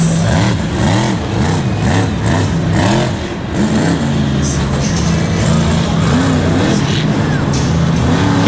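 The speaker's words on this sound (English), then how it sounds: "This is a Michael Vodders owned truck" A monster truck engine revs loud and near in a Monster Jam stadium, rising and falling in repeated pulses at first and then holding a steady roar, with crowd and commentary noise under it.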